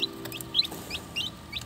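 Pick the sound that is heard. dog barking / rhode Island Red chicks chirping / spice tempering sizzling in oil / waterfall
rhode Island Red chicks chirping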